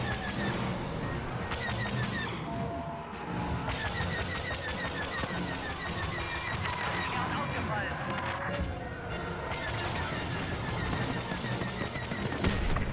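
Rapid bursts of blaster and gunfire from the Star Wars Battlefront 3 PvP multiplayer game on the Death Star battle station map rattle on continuously, mixed with other in-game effects and voices throughout.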